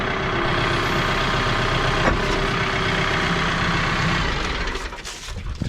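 A tractor engine idles steadily and loudly at close range, a constant low rumble that dips briefly near the end.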